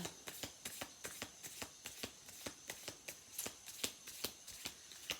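Tarot cards are shuffled by hand in quick, steady riffling bursts, roughly three to four crisp card flicks per second, close and clear with no talking.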